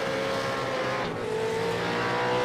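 A V8 Supercar in a sim racing game runs wide at Phillip Island, its engine a loud, sustained high drone that dips briefly, with tire noise beneath and no voices.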